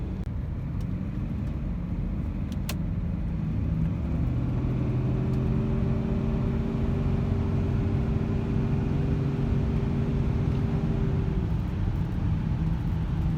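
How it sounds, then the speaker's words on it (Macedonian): An automatic BMW drives with a steady low rumble of engine and road noise that stays even throughout, with a faint tonal drone joining in the middle; no one speaks. "Една добра ствар е што БМВ-то од Петрафиле е автоматик, така да можам да возам стабилно"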